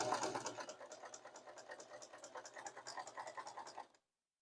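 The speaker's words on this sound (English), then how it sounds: "I'm going to sew a bit back and forth a bit, and then I'll start to curve right this way" Sewing machine stitching the zipper fly on a pair of pants, a steady close rapid stitching rhythm running in short bursts for about four seconds before stopping.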